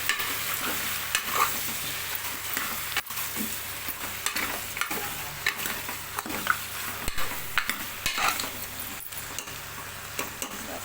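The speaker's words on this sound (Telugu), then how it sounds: "ఇప్పుడు ముందుగా మనం తీసుకున్న వన్ కేజీ మటన్ అయితే వేసుకుందాం ఒకసారి అయితే కలుపుకోవాలి" One kilogram of mutton goes into a pan of softened onions and is stirred, giving a steady close sizzle of frying with repeated scraping and knocking of the spoon against the pan, and no talking.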